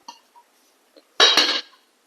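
A lid set onto a pan while egg curry cooks, heard as a sharp metallic clatter and rattle near the end, after a few small clinks and under no talk.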